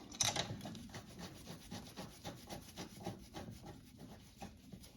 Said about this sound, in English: Now grab your caliper and slide it over and install the bolts.